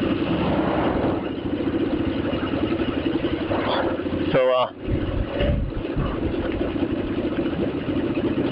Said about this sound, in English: I got some guy on a Harley here beside me trying to make a bunch of racket